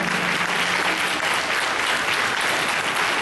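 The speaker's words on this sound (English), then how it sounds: "let's have a great hand of applause to our panel" An audience applauds a panel at an evening event, a loud, dense wash of many hands clapping together that holds steady from start to finish with no break.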